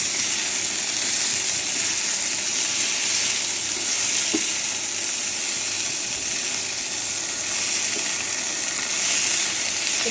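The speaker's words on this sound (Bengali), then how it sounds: "1 চামচ লাল মরিচের গুঁড়ো দিয়ে মশলাটা ভালো মতো একটু কষিয়ে নিব। আবার নেড়ে চেড়ে দেবো।" A spice paste with a spoonful of red chilli powder fries in a pan in a home kitchen, giving a loud, steady sizzle that runs without a break, with a few faint scrapes of stirring.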